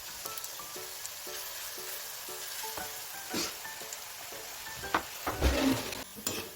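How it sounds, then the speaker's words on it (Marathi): Small bhaji fritters deep-frying in hot oil as part of a Kolhapuri misal pav meal, a quiet steady sizzle with a few light taps and a brief louder clatter near the end. "अशी छोटी छोटी भजी आपल्याला तळून घ्यायची आहे"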